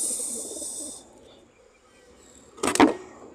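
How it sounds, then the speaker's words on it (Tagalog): Pigeons are close by, with a soft hiss at first, then quiet, then a brief loud flutter-like burst near the end. "Ito mga kalapatids."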